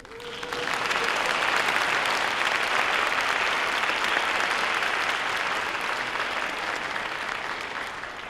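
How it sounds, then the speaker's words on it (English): An audience at a fall college convocation breaks into applause after faculty appointments are announced, the clapping swelling within the first second and holding dense and even before tapering slightly. "Now we can applaud."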